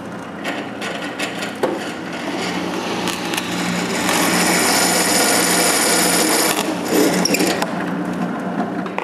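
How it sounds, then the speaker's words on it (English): A power drill whines steadily while boring holes through two wooden pieces held together, a continuous grinding buzz that rises in intensity midway, with small knocks around it. "stick both pieces together, and drill the holes"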